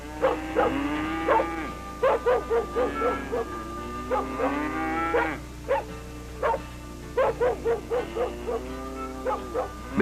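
Live cattle on a ranch low repeatedly in drawn-out moos, several animals calling in turn at close range, with a steady low hum underneath and no talking.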